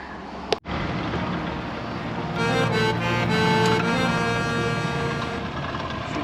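A small fishing boat's motor running steadily near Fethiye harbour, a continuous low hum with wind and water noise, preceded by a brief knock, heard close with no clear talk.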